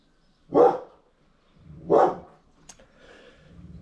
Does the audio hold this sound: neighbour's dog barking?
yes